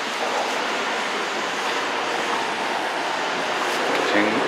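A passenger train runs with a dense, steady rumble and rushing roar heard from inside the carriage, loud and unbroken throughout, with a faint rattle near the end.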